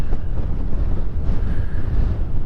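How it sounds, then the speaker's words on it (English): Strong wind gusts across a motocross track and buffets the microphone, a continuous low roar and rumble that swells and dips unevenly with no voices. "It's really windy, especially over here"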